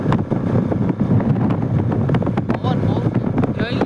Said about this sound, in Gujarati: હમણાં બે થી આ પવન વધી ગયો હે